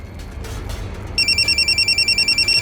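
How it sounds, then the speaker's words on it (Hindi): A telephone starts ringing partway through, a loud, steady electronic trill pulsing rapidly over faint background noise. "ये भूरा बार बार फोन क्यों कर रहा है?"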